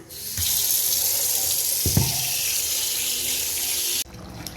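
Tap water runs steadily into a kitchen sink while 1 kg of chicken is washed for biryani, a constant close splashing rush lasting about four seconds before it cuts off.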